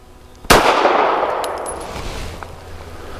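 A single loud, close shot from a Taurus GX4 pistol at an outdoor range, a sharp crack followed by a long echoing decay that fades over about three seconds.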